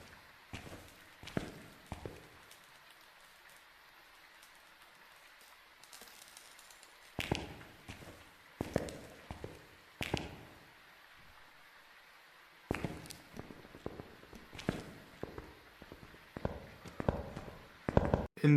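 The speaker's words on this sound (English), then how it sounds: "Right now I'm listening to how fast the footsteps are." Footsteps of a ghost in the horror game Phasmophobia, a series of sharp thumps coming in quick bursts, one stretch fast and then slowing, separated by quiet gaps, with no voices.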